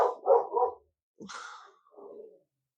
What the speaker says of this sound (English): Those dogs. They just like to bark.